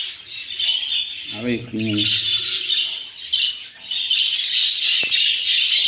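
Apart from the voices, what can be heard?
budgerigars chirping in a breeding colony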